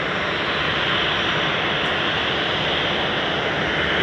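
An airliner lands on runway 23 right at Manchester Airport, its engines producing a broad, steady roar of loud rushing noise that holds without a break and with no voices.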